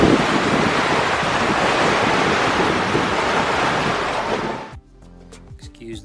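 Strong wind roars steadily over open sea aboard a reefed sailboat on passage from Walvis Bay to St Helena, a loud broadband rush with surf wash that cuts off abruptly near the end.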